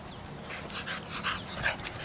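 A female dog gives a few short, high whimpers and yips in a quiet room, close by and moderately loud, spaced irregularly over about two seconds with no talking.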